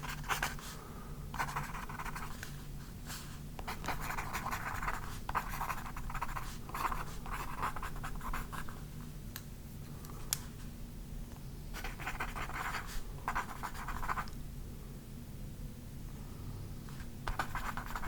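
Pen scratching across paper in short strokes and longer runs with brief pauses, close and soft against a faint steady hum, no speech.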